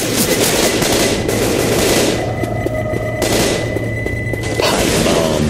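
A pipe bomb exploding in the zombie shooter game Left 4 Dead 2: loud, dense rolling blasts and rapid crackling gunfire filling the whole stretch, with brief dips between bursts.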